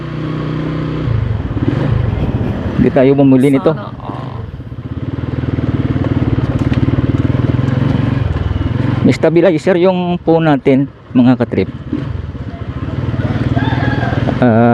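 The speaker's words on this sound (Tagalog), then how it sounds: "Yung motor natin Rossi lang yan mga katrip." A Rossi 125 motorcycle hums and drones steadily underneath while being ridden, with wind and road noise, as someone speaks over it in two stretches.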